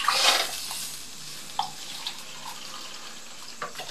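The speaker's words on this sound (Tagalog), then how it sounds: "Lagyan ng tubig. Para sa isasabaw niyang sotanghong." Water is poured into a cooking pot for Filipino sotanghon glass-noodle soup, a rushing splash loudest at the start and then settling into softer trickling with a few faint clinks, with no talk.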